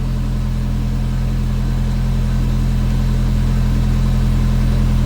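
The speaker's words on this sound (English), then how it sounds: "Okay, vehicle's running, e-brake off, parking brake works." Kawasaki Teryx H2 side-by-side with a supercharged engine, running steadily at idle, a loud continuous low hum and drone with no variation, close to the machine and no voices.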